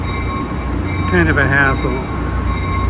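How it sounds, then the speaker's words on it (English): A New Jersey Transit train pulls into Hoboken Terminal, a steady low rumble with a brief rising squeal of wheels or brakes midway, heard up close under a short remark from a person speaking. "Train just coming in. They're all New Jersey Transit."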